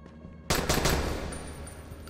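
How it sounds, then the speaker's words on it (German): A Raiz pistol in the video game Dying Light fires a quick three-shot burst, the sharp close cracks coming in a rapid cluster after a quiet moment and fading into a short reverberant tail. "Drei Schüsse auf einmal."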